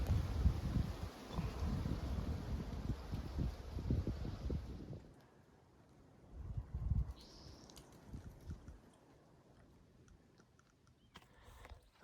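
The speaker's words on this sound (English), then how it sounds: "Very windy right here." Gusty wind buffeting a microphone at a campsite on the Pacific Crest Trail, loud rumbling bursts that drop away and return in weaker gusts, with faint rustling between.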